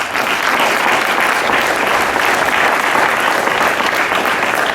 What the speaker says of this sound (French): Applaudissez-le encore, parce qu'il le mérite vraiment.